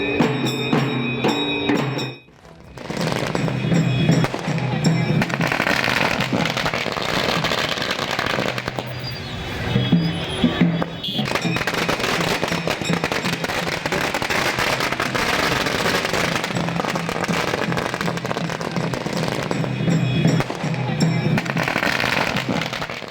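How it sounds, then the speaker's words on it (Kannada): Firecrackers burst nonstop at a fans' celebration in Kalaburagi for Chief Minister Siddaramaiah, a dense, loud crackling barrage that dips briefly near the start and then rattles on continuously for about twenty seconds. "ಸಿಹಿ ಹಂಚಿ ಪಟಾಕಿಯನ್ನು ಸಿಡಿಸಿ ಸಿದ್ದರಾಮಯ್ಯ ಅಭಿಮಾನಿ ಬಳಗ ಏನು ಸಂಭ್ರಮಾಚರಣೆಯನ್ನು ಮಾಡಿದ್ದಾರೆ."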